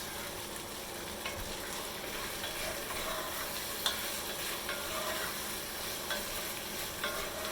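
Salt and pepper shrimp searing in a hot pan with a pepper mixture, sizzling loudly and steadily while being stirred, with light clinks and scrapes of the utensil.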